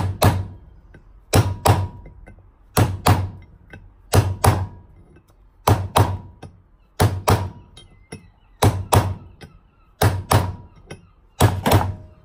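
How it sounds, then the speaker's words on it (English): Repeated sharp hammer taps on a classic Mini's front suspension bearing and swivel, arriving in close paired strikes about every 1.4 seconds, loud and near with no voice over them. "gently tap round, side to side, top and bottom, just progressively getting harder"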